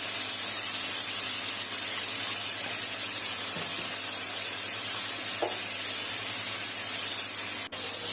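Soya chunk curry sizzles in a pan after turmeric and salt go in, stirred as it cooks. A steady, moderate hiss runs throughout, close but not loud, with one sharp click near the end.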